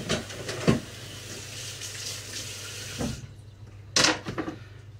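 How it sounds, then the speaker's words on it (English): Chopped fresh herbs rinsed under a running kitchen tap, a steady hissing water stream with sharper splashes as the flow shifts, close by and with no talking. "I'll just rinse that."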